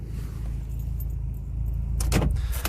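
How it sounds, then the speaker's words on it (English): Car keys for a T-registration MG ZR jangle close by in a short metallic burst near the end, over a steady low rumble of a parked or idling car. "let's get these keys dropped off."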